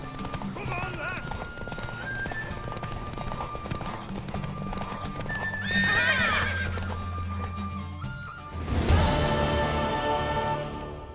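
Horse hooves clip-clop at a gallop in The Witcher 3, with a loud whinny near the middle and another burst of neighing toward the end, heard alongside game music and spoken dialogue.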